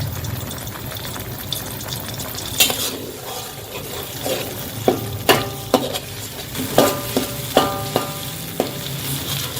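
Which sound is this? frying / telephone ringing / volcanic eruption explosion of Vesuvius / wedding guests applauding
frying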